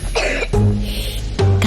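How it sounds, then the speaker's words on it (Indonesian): A child with flu coughs loudly and closely in two harsh, throaty bursts separated by a brief pause, with no talking over it. "Kakak flu dan batuk."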